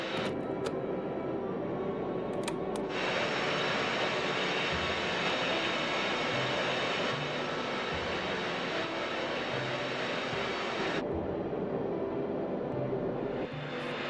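Concorde jet engines roar during a takeoff roll on runway 26 right with a tailwind: a loud, steady, broadband jet rumble that continues without a break, with no voices over it.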